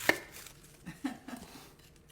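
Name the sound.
chopping an onion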